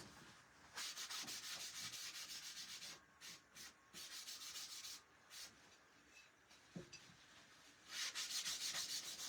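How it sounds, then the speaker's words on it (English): Paper towel rubbed briskly over a surface to remove loose transfer paste, repeated close scrubbing strokes in quick bursts with short pauses, no voices. "I'm just going to take a piece of paper towel"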